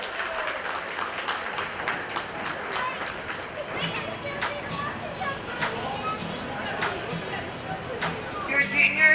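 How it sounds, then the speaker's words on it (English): Applause from spectators at a county fair 4-H and FFA market steer show, scattered clapping throughout with children's voices and crowd chatter in the background, plus a voice over the public address. "let's give her a round of applause"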